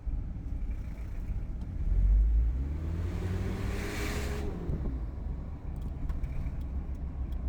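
Engine of a 1992 Mitsubishi Pajero fitted with a new snorkel, idling with a steady low rumble heard close by, swelling briefly in a mild rev before settling back to an even drone.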